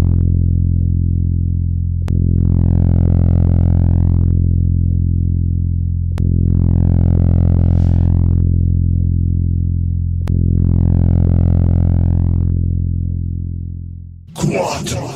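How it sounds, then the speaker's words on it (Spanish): Sonified light curve of a star captured by the Kepler space telescope, a loud droning, distorted tone that swells in three slow regular pulses, ending in a short burst of noise. "Esta es la curvatura de una estrella captada por el telescopio Kepler."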